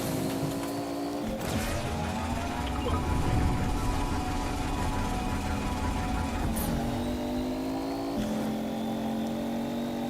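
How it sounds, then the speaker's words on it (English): A futuristic car engine in the Fortnite video game revs and whines steadily throughout, with pitch sweeping up and down across several shifts, loud and continuous with no talk over it. "This is what future cars sound like."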